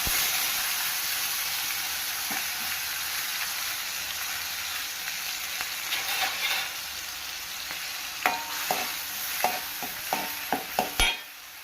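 Onion, tomato, pepper, cumin, chicken masala, green chillies and curry leaves sautéing for a Thoothukudi-style tuna gravy: a loud, continuous hissing sizzle, then a run of quick spoon clacks against the pan near the end.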